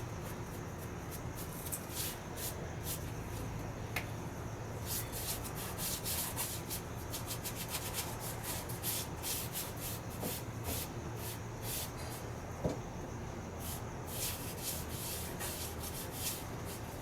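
Close, continuous soft scrubbing and brushing of liquid Plasti Dip over foam armor, with irregular quick strokes and faint dabs and no talking.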